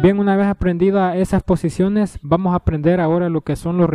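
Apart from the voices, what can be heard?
No everyday noise stands out behind the speech.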